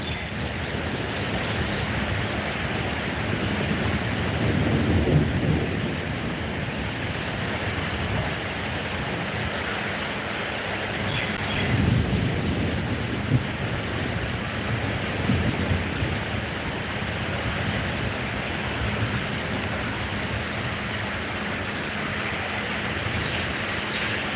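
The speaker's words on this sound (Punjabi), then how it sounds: "ਹੁਣ ਮੱਧਮ ਹੋ ਗਿਆ ਥੋੜਾ ਮੀਂਹ ਘੱਟ ਹੋ ਗਿਆ" Steady broadband hiss of rain falls throughout, with slight swells in intensity, distant and even, no voices.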